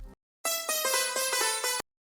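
A short clipped note opens, then a DSK Indian Dreams sitar emulation, processed with heavy OTT multiband compression, plays a dense, bright, loud plucked phrase with sustained shimmering harmonics, cutting off abruptly.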